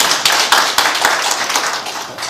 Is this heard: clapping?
yes